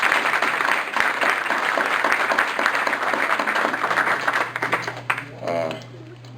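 An audience at an awareness day brunch gives a round of applause, a dense wash of clapping that gradually tapers off, followed by a brief ringing tone and some talking.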